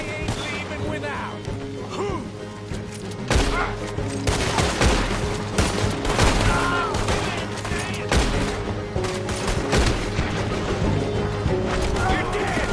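A Red Dead Redemption 2 shootout: dense, rapid volleys of gunshots crack near and loud in irregular bursts, with shouted speech mixed in under the firing.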